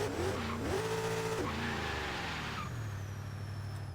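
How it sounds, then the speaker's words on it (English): A modified Jeep in Forza Horizon 3 spins its wheels in sixth gear, the engine droning loudly with a tire squeal that rises and then fades as the revs drop. "Oh my god, even in 6th we got a little bit of spin"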